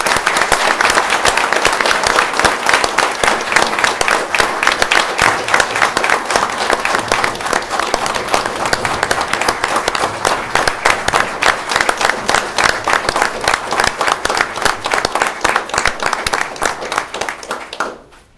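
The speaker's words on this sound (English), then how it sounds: "Can we give them a round of applause?" A crowd at a city council meeting gives a long, loud round of applause, with rapid dense clapping sustained for well over fifteen seconds before cutting off abruptly.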